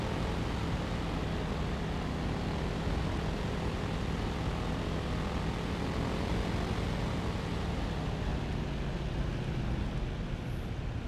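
A propeller aircraft on its landing approach gives a steady, dense engine and airscrew drone that holds at an even loudness throughout, with no voices over it.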